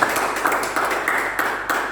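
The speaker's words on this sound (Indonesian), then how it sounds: "Mari kau beri tepuk tangan untuk Tuhan" Congregation clapping for God during an Easter Sunday church service, a steady broadband patter of many hands with periodic louder swells, filling the room without voices on top.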